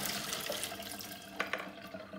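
Hot water poured out of the reservoir of an espresso machine, a steady rushing splash into a sink that runs the whole time, with a couple of brief knocks near the end and no talk.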